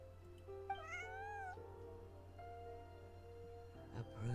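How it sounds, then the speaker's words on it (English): Lynette from the game Genshin Impact gives a soft, drawn-out meow over a quiet game background, a single gentle cat-like call heard alone. "Did Lynette just meow?"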